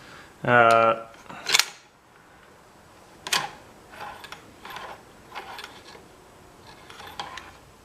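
Sako 85 rifle in .30-06 having its bolt worked, with sharp metallic clicks and clacks of bolt lift, draw and close for Mauser-style ejection, a loud burst near the start and then softer scattered clicks, close up and without talk.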